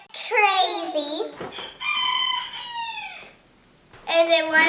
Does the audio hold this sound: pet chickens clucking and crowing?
yes